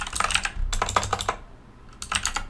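Quick bursts of typing on a computer keyboard, close and crisp, with a short pause between clusters of keystrokes while setting up vBond.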